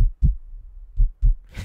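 A deep, booming heartbeat sound effect thumps close and loud in paired beats, low and muffled with brief silence between them.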